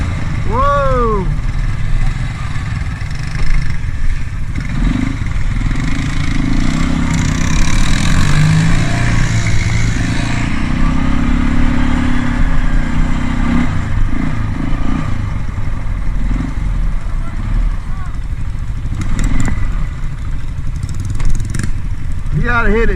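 A Polaris Sportsman 500 ATV engine runs and revs with a rough, clattering drone that rises and falls over about twenty seconds, close by, with people talking over it.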